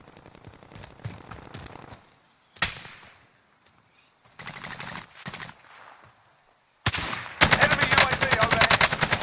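Video game gunfire in an online shooter, irregular bursts of shots separated by silent gaps, ending in a loud sustained automatic volley, with players talking faintly between the shots.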